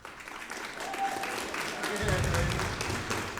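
Students in an auditorium clap for their parents at a high school fall band concert, a moderate round of applause that builds and thickens after the first couple of seconds.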